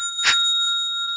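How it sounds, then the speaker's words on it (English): A bright notification bell chimes once, loud and close, its ring ringing out quickly and leaving faint steady tones behind, with no one speaking. "hit that notification bell."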